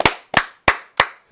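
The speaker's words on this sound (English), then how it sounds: "I love the 2 claps." Four sharp, crisp hand claps in quick even succession, close and loud, each with a brief ringing decay, with no talking.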